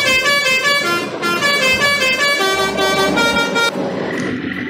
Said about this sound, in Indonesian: Yang ada di depan pokoknya kita klaksonin aja